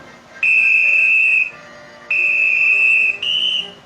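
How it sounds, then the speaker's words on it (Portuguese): A referee's shrill whistle blows three times, two long blasts and a shorter, higher final one, loud and close. "o juiz vai apitar agora"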